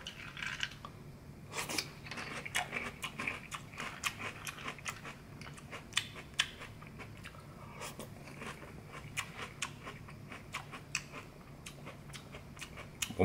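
Someone eats Chex pizza-flavored cereal, producing close, repeated crunchy bites and chewing in an irregular rhythm over about thirteen seconds, with no talking.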